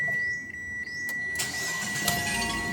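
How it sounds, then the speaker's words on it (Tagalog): A Mitsubishi Xpander with a check-engine fault is started up close: a brief cranking whir catches into a steady running engine, with a thin high whine over a broad rumble and no talk. "Start ko na nga itong makina niya para malaman ko kung okay na ba ito."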